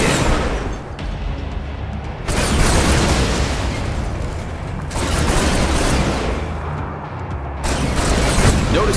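GDI zone troopers blasting a damaged building in Command & Conquer 3: Tiberium Wars, heavy rumbling explosions and dense weapon fire rolling in sustained waves with brief lulls between them.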